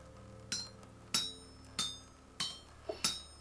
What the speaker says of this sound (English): Obviously, we are doing this using auto magic hammering